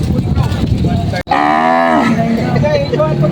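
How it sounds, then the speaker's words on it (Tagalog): Water buffalo at a livestock auction market in Lucena, Quezon give one loud, close, drawn-out moo over steady crowd and yard noise. "Malalaking mga kalabaw."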